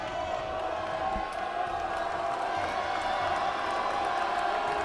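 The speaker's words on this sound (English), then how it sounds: "And this crowd is pumped. They are so loud." A high school basketball crowd in a packed gym cheering loudly and continuously, a dense roar of voices and whoops sustained throughout, with faint court sounds underneath.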